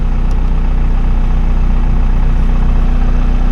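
A dozer's diesel engine idles near 905 RPM, a loud, close, steady low rumble with an even throb and no voices.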